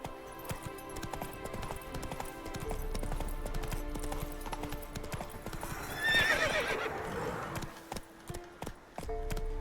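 Roach, a horse in The Witcher 3, gallops with a rapid, rhythmic clip-clop of hooves that builds and stays close, and a sharp whinny breaks out partway through before the hoofbeats thin out.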